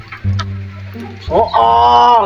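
Chickens cluck close by, short bursts giving way to a rising, drawn-out squawking call, with a steady low hum and faint voices underneath.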